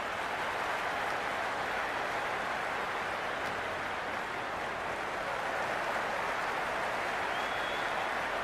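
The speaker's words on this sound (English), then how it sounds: "There's an almost tangible fervour throughout the crowd at the moment." A stadium crowd in a cricket video game cheers and applauds in a dense, continuous roar of clapping that holds at an even, fairly loud level throughout, with no voices standing out.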